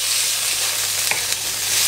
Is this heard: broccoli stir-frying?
yes